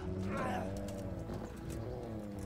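A horse in the medieval video game Kingdom Come Deliverance, with hoofbeats and animal noise amid busy game sounds, partly under a voice.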